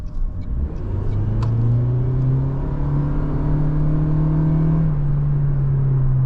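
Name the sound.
Toyota Prius AWD accelerating in sport mode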